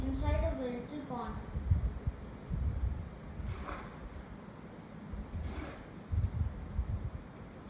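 A raft glides across a small pond in Minecraft, with soft, continuous water washing and lapping sounds running under a person talking throughout.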